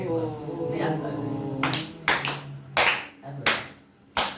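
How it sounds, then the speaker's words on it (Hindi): A few sharp hand claps ring out in separate bursts, each one loud and close, after a stretch of steady chanting or humming. They come at an uneven pace, and the room stays quiet between them. "ताली बजाएंगे"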